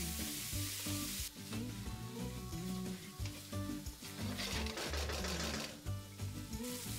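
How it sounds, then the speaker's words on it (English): Chopped tomatoes sizzle as they fry in an onion masala for a cauliflower curry, a steady hiss swelling in bursts beneath prominent background music, with no talking. "Then add 3 chopped tomatoes and fry this for about 2 minutes until nice and soft."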